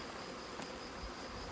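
Faint, steady buzzing of honey bees around a recovered swarm, a soft continuous drone with no voices.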